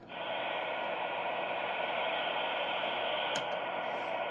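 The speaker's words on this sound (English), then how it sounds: "I don't like all that hiss. I like more bassy sound." Constant broadband hiss from a radio receiver tuned to the weather band, a steady static wash with a brief click near the end and no voices.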